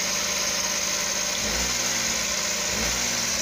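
A Suzuki transformer multicab engine with a hard-start fault and fouling spark plugs idles at high RPM, a steady close mechanical drone with vibration and a slight dip and surge midway, with no talk.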